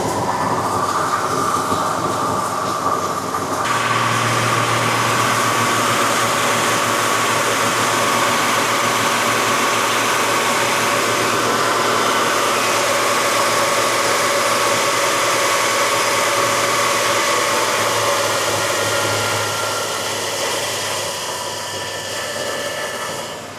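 Rebuilt Ford 300 inline-six on its first start, idling through cam break-in: a loud, steady mechanical drone with constant whine and hum, alone and unchanging throughout.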